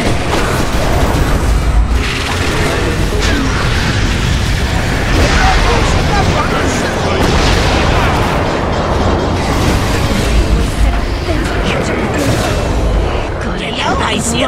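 A Dota 2 tower collapsing amid constant game battle noise, with booming impacts and dense crackling effects running throughout, while an announcer voice speaks over the din.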